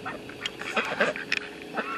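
Several ducks quack in quick, uneven bursts close by, their calls overlapping in a noisy little chorus.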